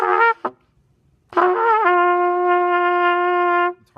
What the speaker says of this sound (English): you'll get a really pinched tone that will sound like this.